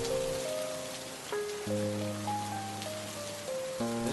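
Rain falls outside as a steady broadband hiss from start to finish, while a stepped, sustained melody plays over it at similar loudness.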